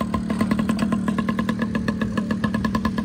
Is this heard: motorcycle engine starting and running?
yes